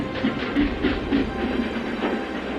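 Train rolling along rails, a steady loud rumble with rhythmic clickety-clack beats over the track joints, continuous throughout with no voices.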